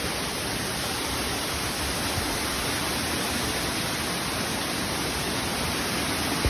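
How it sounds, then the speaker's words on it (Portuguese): Waterfall at Cachoeira dos Cristais in Chapada dos Veadeiros, Alto Paraíso de Goiás, gives a constant broadband rush of falling water, steady and close with no voices. "são muitas cachoeiras"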